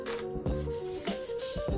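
Three short, sharp hisses of aerosol spray in quick bursts onto an 8-inch vise in a garage, heard over a steady low mechanical hum.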